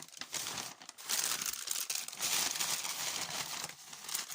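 Kraft paper gift wrapping is handled up close, crackling and crinkling steadily in dense bursts for several seconds, with brief lulls and no speech.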